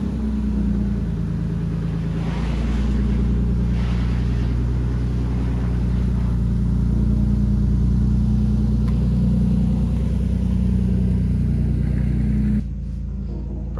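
A Toyota Supra's engine rumbles loud and close in a steady deep drone that swells slightly as it pulls away, then cuts off abruptly near the end, with no talk.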